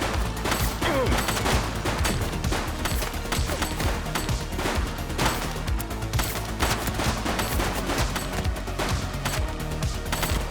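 Heavy, continuous gunfire in The Precinct game: rapid, overlapping shots fill the whole stretch like a sustained firefight, loud and dense with no pauses.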